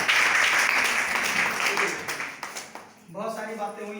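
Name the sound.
applause at health care meeting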